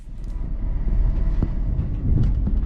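Highland Chieftain high speed train running past Haymarket Depot in Edinburgh, heard from on board as a steady low rumble of wheels on rail with faint clicks and clatter, continuous and close.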